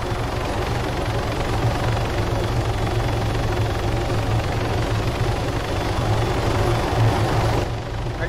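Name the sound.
helicopter in video game Arma 3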